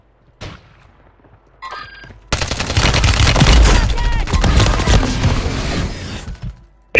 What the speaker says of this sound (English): I'm getting shot up from the side